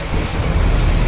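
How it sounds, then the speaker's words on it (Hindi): Strong wind blows over Ha Long Bay in Vietnam, heard from a cruise boat. It comes as a loud, close, broadband roar, buffeting the microphone throughout. "तेज़ हवाएं चल रही हैं"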